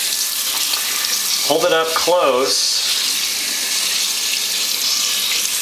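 Garden hose spraying water onto the felt waste-ink absorbing pads of an Epson 1400 inkjet printer, a steady close hiss throughout, with a brief spoken remark early on.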